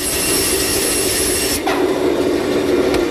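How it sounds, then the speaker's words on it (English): Soft brass rod being cut on a bandsaw in a workshop, a steady continuous whir and rasp of the blade running throughout, close and fairly loud, with a small shift in tone partway through. "the bandsaw blade cuts right through this soft brass like it's butter"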